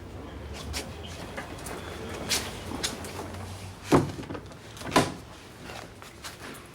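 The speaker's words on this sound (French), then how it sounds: "Entrez, fermez la porte." An office door is closed in a French TV drama scene, with two soft knocks followed by a firm thud of the door shutting nearby, then a second clunk, against quiet room tone.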